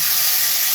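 Kofta sizzling in hot oil for a kofta curry, a steady bright hiss filling the short moment without any voices.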